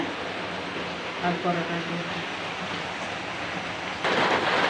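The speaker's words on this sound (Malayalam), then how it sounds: "ഇപ്പൊ അതവിടെ മഴ പെയ്യുന്നുണ്ട്" Steady hiss of rain falling, a continuous broadband wash with a faint voice murmuring underneath, getting slightly heavier toward the end.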